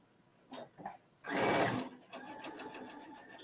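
A sewing machine straight-stitches sweater knit fabric while hemming a sweater with elastic, starting with a couple of soft taps, then a loud close burst of running before settling into a steadier, quieter hum.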